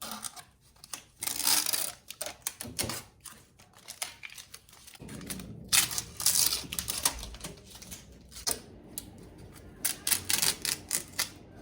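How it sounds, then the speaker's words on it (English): Masking tape is peeled and torn off a freshly painted dresser in a run of crackly, ripping bursts with short pauses between pulls, close and crisp, with no voices. "Here comes the tape removal."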